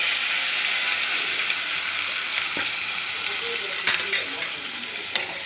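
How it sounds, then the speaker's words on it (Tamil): Onion, ginger, a single chili and a medium tomato sauté in a hot pan, a dense close sizzle broken by a few stirring scrapes and clatters. "கலந்து நல்லா வதக்கணும்"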